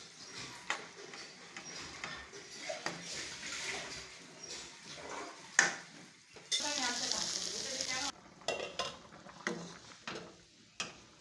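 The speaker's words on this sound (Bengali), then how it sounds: "আলু সয়াবিন এটাকে ফ্রাই করা হবে" Potato and soy chunks fry with green chillies, ginger and cumin, crackling and sizzling in the pan amid spoon clatter and stirring, with a louder hissing burst partway through and sparse, intermittent noises afterward.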